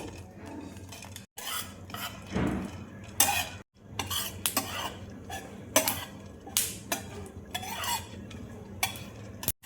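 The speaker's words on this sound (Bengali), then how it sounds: "এবার দেখো ফ্রাই প্যানে আমি চাল মগজটা শুকনো নেড়ে নেব।" Repeated dry scraping and rattling as a spatula stirs charmagaz melon seeds around a dry frying pan, in irregular strokes with brief pauses.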